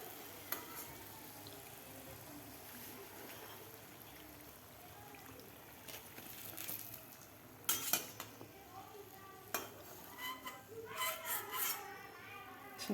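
Fried matar kachoris lifted out of hot oil with a metal slotted spoon, giving scattered clinks and scrapes against the pan over a faint bubbling background, with a few sharper metallic taps toward the end.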